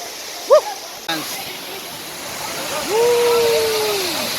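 Sariya waterfall at Devarapalli in Vizag district gives off a steady broadband rush of falling water, while voices call out briefly over it.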